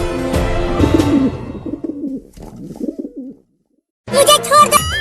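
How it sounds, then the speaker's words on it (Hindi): A pigeon cooing in a series of soft, close, wavering calls, after a short burst of louder sound, then a brief silence and a busier burst of noise at the end. "कबूतर।"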